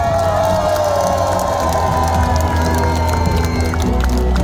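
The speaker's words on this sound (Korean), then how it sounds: "여러분 큰 박수와 함성 부탁드립니다" A large outdoor conservative rally crowd at Dongdaegu Station plaza cheers and claps loudly and continuously, with a sustained tone from speakers and music over the roar.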